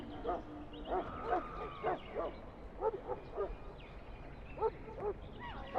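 A Mabari war hound from Dragon Age: Origins barks and yips in quick, irregular bursts, the calls moderately close and set against a quiet room backdrop.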